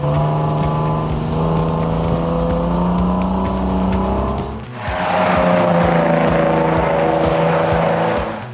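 The Barra-swapped engine of a Ford EL Falcon drift car runs loudly and close on track, droning steadily, dipping briefly near the middle, then rising again into a harsher roar.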